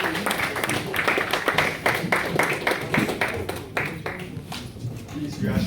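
Audience clapping at a student engineering summit in Ghana, a dense run of scattered claps with some voices mixed in, tapering off toward the end.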